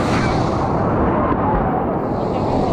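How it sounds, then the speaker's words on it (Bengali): Big ocean wave crashing at Digha beach, a loud, sustained roaring wash of surf filling the whole moment, close by and without speech. "দেখো এই ঢেউটা প্রচুর বড়।"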